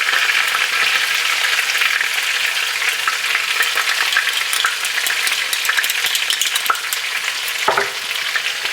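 Garlic sizzling in a skillet alongside browned ribs, a steady loud crackling fry with scattered pops and a brief scrape or stir near the end, no voices.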